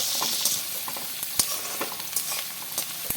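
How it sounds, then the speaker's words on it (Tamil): Chopped large onions sautéing in sesame oil for onion thokku, a steady soft sizzle with a few sharp clinks of a stirring spoon against the pan, close and alone. "இதை வந்து நல்லெண்ணெயிலேயே நம்ம வதக்கும் போது நல்ல ஒரு வாசனையை கொடுக்கும்"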